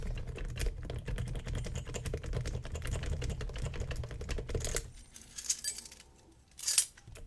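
AliExpress tryout keys jiggled in a lock give quick continuous metallic clicking and rattling for about five seconds, then a quieter pause and a few sharp clinks.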